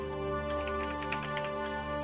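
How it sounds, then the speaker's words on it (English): Quick, light clicks of typing on a computer keyboard as a name is entered, running in a soft, uneven patter beneath a steady tonal music drone. "I'll type name here."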